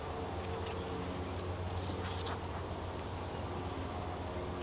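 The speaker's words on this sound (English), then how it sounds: "we have lots and lots of bees up here, and a lot on these outer frames" Honeybees buzzing steadily in an open hive during an inspection, a dense continuous hum from many bees on the outer frames, close and even throughout with no talk.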